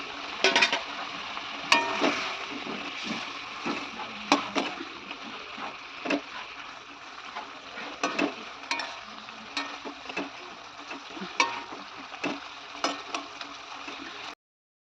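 Pieces of rohu fish cooking in a pan with pointed gourd for a spicy Bengali curry: a steady hot sizzle with repeated sharp scrapes and clinks of a spatula stirring, close and continuous, no voices.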